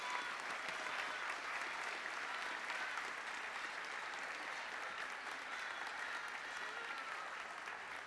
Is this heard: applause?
yes